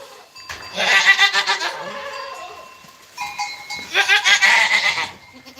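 Goats bleating on a farm, two loud wavering calls close by, each about two seconds long with a short pause between them, no talk.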